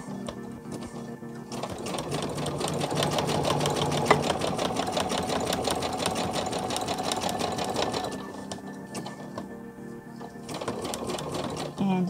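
Sewing machine stitching a PUL nappy cover in steady, continuous rapid runs with brief pauses, close and loud, mostly on its own.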